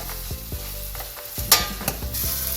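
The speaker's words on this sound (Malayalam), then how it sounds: "ഇപ്പോൾ വഴണ്ട് തുടങ്ങിയിട്ടുണ്ടല്ലോ" Onions sautéing in a pan for beef vindaloo, a steady close sizzle with a few scraping stirs of the spatula and a brief bright clatter mid-way, no voices.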